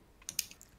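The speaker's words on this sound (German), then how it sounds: "Der Kuli klickt schon, du hast es gehört." A ballpoint pen clicks a few times in quick succession, faint sharp ticks close by against a quiet background.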